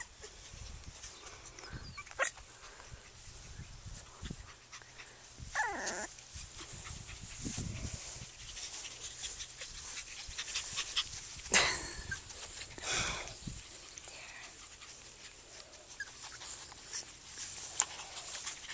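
Yorkiepoo puppies play on a farm, giving scattered whimpers, yips and small growls at close range amid rustling movement and a faint steady hum.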